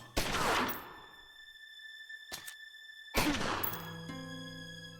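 Gunfire in the turn-based gangster strategy game Omerta: City of Gangsters, with two sharp shot bursts a few seconds apart, each trailing into ringing, tonal game effects, moderately loud with no voices.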